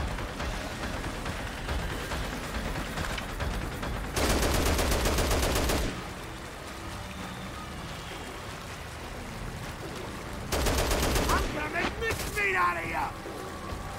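Heavy machine gun fire in the Dead Rising video game, two loud sustained bursts of rapid shots over a steady rushing game background, with a voice briefly heard near the end.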